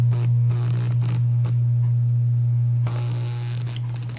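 An electric massager hums steadily and loudly close by, used as a high-speed massage over the body in a fall-injury treatment session, with a few brief bumps and shifts of contact over the continuous drone.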